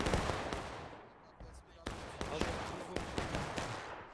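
Union musket fire in War of Rights, a large Civil War-era battle with hundreds of players, heard as scattered cracking volleys and shots, some near and some distant, under a constant roar of battle.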